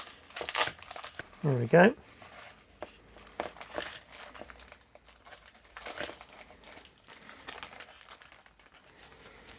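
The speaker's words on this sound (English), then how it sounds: "I think I'm going to tear open the bag." Plastic bag holding a potted Arabian jasmine plant torn open by hand, with a brief crinkling rip near the start and soft rustling afterward, while a person speaks briefly.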